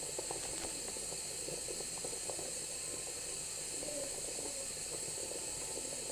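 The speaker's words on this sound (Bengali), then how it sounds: "ভাজা মূলাগুলো দিয়ে দিচ্ছে" Fried radish pieces are sautéed in a pan for a Sylheti radish curry in a home kitchen, a faint continuous hiss and sizzle under a steady background hum.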